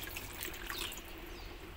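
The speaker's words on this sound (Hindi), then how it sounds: "पानी ऐड करेंगे अब हम इसमें" Water trickles steadily into a pan of onion-based chicken gravy as it cooks, a faint, continuous pouring sound close by with no talking.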